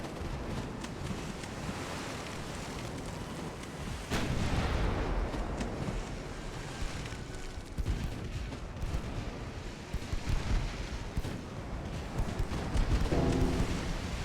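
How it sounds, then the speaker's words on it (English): Torpedo explosion in the naval warfare game Ultimate Admiral: Dreadnoughts, a broad rumbling blast at about four seconds over continuous sea and gunfire rumble, with further booming through the rest. "Oh, that was a torpedo."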